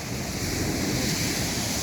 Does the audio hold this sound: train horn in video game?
no